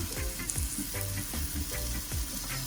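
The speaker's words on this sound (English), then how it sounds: "At this point, I'll be adding some water." A hot pan of brown stew sauce sizzles and bubbles steadily after water is added, a close, crackling fry with repeated soft stirring scrapes and no talking.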